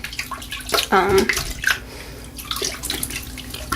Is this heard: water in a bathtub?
yes